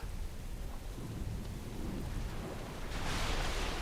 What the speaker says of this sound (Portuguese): Uma tempestade.